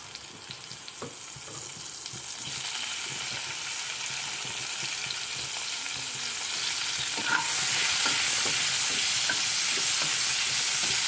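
Tomato and white cumin fry in hot oil in a frying pan, producing a steady sizzle that grows louder and brighter partway through, with light stirring taps and scrapes over it.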